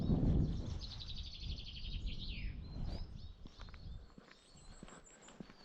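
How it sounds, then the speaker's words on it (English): Small birds chirp and trill in a Scottish forest, a rapid high twittering run near the start followed by scattered faint calls, over crunching footsteps on the woodland floor. "Listen to the birds here, folks."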